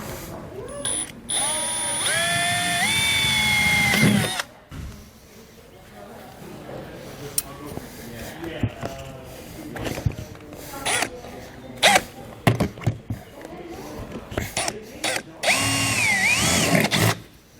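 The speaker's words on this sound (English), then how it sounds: "So I'll just simply drill all of these out." A power drill runs in a long whining burst into the metal flange of a roof vent cover on a 2019 Coachmen Leprechaun motorhome, then clicks, knocks and handling noises, and another rising drill whine near the end.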